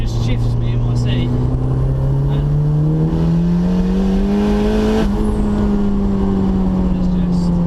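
Modified turbocharged 364bhp Mazda MX5 pulling hard from inside the cabin, engine note climbing steadily through a long gear before a brief shift, loud and droning with faint turbo whistle.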